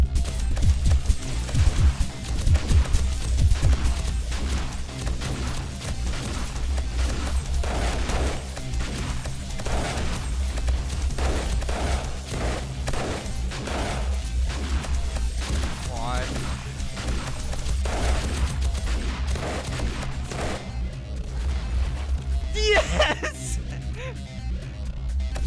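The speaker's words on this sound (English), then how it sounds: "I heard you shooting out back and I was like, what is that?" Gunfire in the zombie survival game 7 Days To Die during a day 70 horde night, dense bursts of sharp cracks and thuds running throughout amid crashing impacts, with players talking over the clamor.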